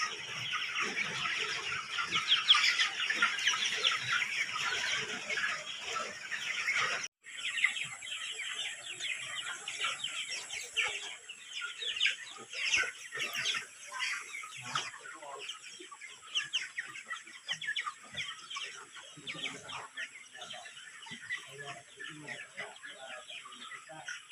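A large flock of chickens clucks and chatters continuously on a poultry farm at harvest time, a dense, steady farmyard chorus.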